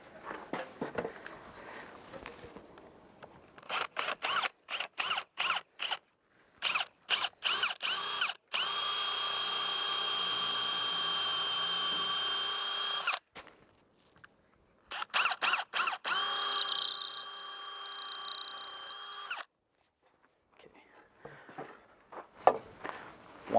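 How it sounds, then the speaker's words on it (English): A power drill bores into a timber marine double-glazed window frame, running in several long sustained whines broken by short stop-start bursts, close and fairly loud with quiet gaps between. "So that's my plan, is basically drill down as far as I can and then meet up and go straight in."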